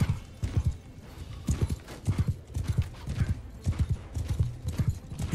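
A horse galloping in the video game Mount & Blade II Bannerlord, rapid rhythmic hoofbeats thudding steadily throughout, close and prominent, with no talk over them.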